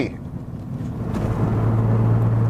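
A turbocharged Lexus SC300 engine pulling as the car drives on the street, a steady close low rumble that builds in loudness and settles into a sustained drone, with no talking over it.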